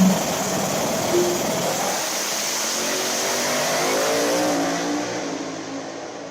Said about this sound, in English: that's Michael Nell in the far lane with the old Rogue 405 car on radials now